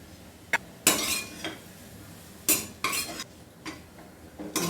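A spoon scrapes and clinks against a pan while potato bhaji with grated coconut is stirred, coming as several separate bursts of a few loud strokes with quiet gaps between them.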